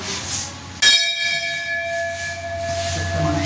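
A single loud strike of the bell at Baneshwar temple, a sharp clang followed by a long, clear ringing tone that sustains through the rest of the moment with no talk.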